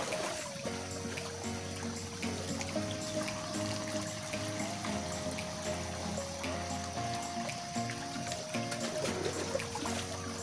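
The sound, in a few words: water filling a sprayer tank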